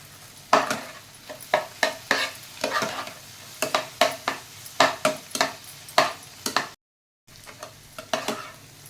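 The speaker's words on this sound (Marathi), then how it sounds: "गॅसची फ्लेम थोडी हाय ठेवून आपल्याला 5 मिनिटं ही भेंडी सतत परतून राहायची आहे" Okra stir-fries in a pan on high flame, with a steady sizzle broken by repeated sharp scrapes and clinks of a spatula against the pan in an uneven rhythm, close up.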